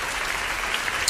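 Applause for a vlogger at the end of a day's recording, a short burst of steady clapping that stays level throughout with no voices over it.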